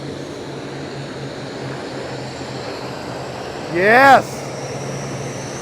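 Jet aircraft roar overhead at an airport during Fleet Week, with the Snowbirds aerobatic team flying; a steady engine drone swells into a brief louder sweeping pass, and a voice speaks briefly.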